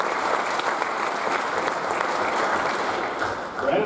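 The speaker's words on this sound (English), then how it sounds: "So we give Jake a round of applause." Audience at a baseball awards ceremony applauds with loud, dense, continuous clapping that carries steadily and eases slightly near the end.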